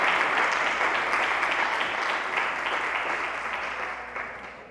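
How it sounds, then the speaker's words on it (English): Audience at a live pitch event applauding young presenters, a dense steady roar of clapping that slowly fades over several seconds. "Let's give our young people a real round of applause."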